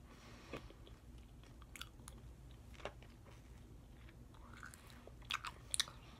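Someone chews black, sweet candy up close, producing faint, irregular crunching and soft biting clicks scattered over several seconds in a quiet room, with a few sharper crunches near the end.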